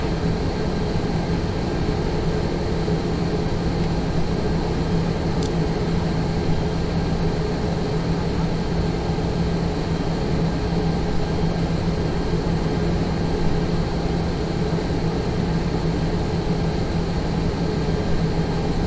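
An airliner in the Prepar3D v4 flight simulator runs its engines up for takeoff on runway 27 right at London Heathrow, a loud, unbroken broadband roar with a steady low hum and no voices.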